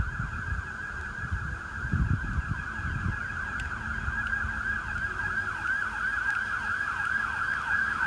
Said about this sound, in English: As another siren's coming through.